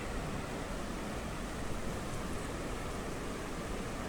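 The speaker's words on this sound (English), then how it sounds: "come down here to the creek" A creek flows at night with a steady broadband rush of water, constant and moderately faint, with no other sounds standing out.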